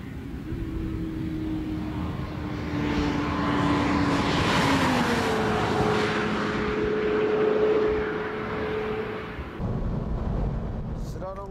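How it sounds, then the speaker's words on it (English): A Honda Integra DC2 or DC5 runs at full throttle on a windy test course, its engine note climbing and then dropping away as it passes, buried in broad, rushing wind roar. "Let's see how the car reacts at full throttle without slalom."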